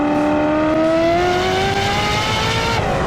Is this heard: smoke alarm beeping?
no